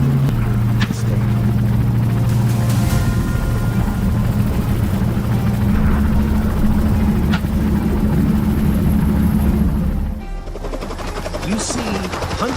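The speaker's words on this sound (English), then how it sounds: "hunting wild boar with a helicopter is much more efficient than traditional hunting methods" A helicopter used for hunting wild boar drones steadily with rotor thrum and engine whine, loud and close, with sharp shots cracking over it and voices talking as the drone drops off near the end.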